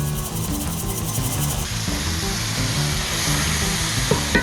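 Chopped bacon frying in a pan, a dense steady sizzle and hiss with faint crackles and a few soft scrapes, moderately close, with no talk.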